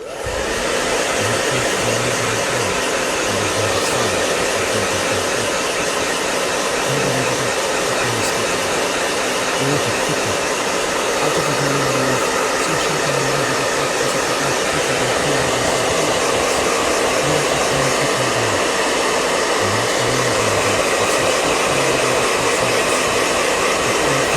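A blow dryer whirs steadily and loudly for a long stretch during a live painting session, a constant airy roar with a faint low hum underneath and no voices.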